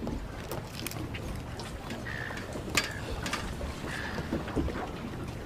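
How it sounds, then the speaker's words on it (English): A low, steady boat engine drone runs throughout, with a few faint mechanical clicks and brief tonal chirps over it. "Start the engine, Gav."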